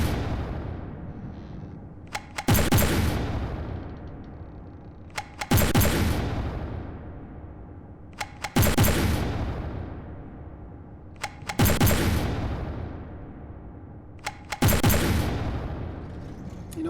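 Heavy weapon in From the Depths firing in a steady rhythm, five loud booming blasts roughly three seconds apart, each preceded by a faint mechanical click and trailing into a long rumbling decay, with no talking.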